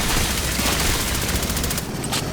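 Rapid automatic weapon fire in the sci-fi shooter Aliens Fireteam Elite, a dense, loud burst of continuous shots that cuts off near the end, with no talk over it.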